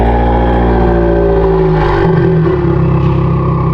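A Subaru WRX engine revs loudly up close, rising in pitch and then dropping back to a rough idle, with no talking.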